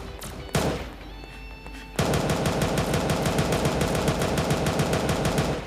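Rapid automatic gunfire from a shooting video game: a dense, steady stream of loud, closely spaced shots runs continuously for several seconds after a brief thump and a quieter lead-in.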